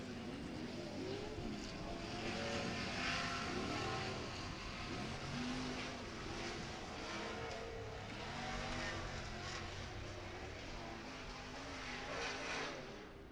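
Sportsman off-road racing trucks race at an event in Minneapolis, swinging side to side through a rhythm section. Their engines make a continuous loud roar whose pitch rises and falls as they work over the bumps.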